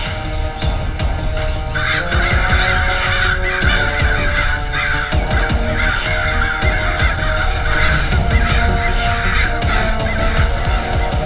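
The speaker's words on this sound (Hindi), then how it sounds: "ये दरिंदे कौवे तुझे यहाँ से जिंदा वापस बगदाद जाने नहीं देंगे" A dense flock of crows caws nonstop, harsh overlapping calls layered over a loud, busy soundtrack in an animated Aladdin adventure scene.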